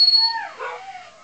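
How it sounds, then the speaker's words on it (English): Dogs howl nearby in a wavering, sliding cry that rises and dips, loud at first and then trailing off with a softer whimpering tail. "I got the dogs howling"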